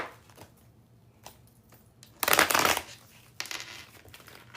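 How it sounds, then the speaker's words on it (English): A deck of tarot cards is shuffled close by, with two bursts of rustling, riffling card noise over a quiet background and a few soft taps before them. No one speaks. "I need to shuffle my deck a little bit."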